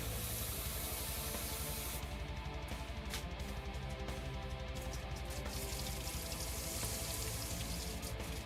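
Water is poured into a pot of jerk stew with vegetable broth, a steady, continuous splashing hiss lasting several seconds without speech.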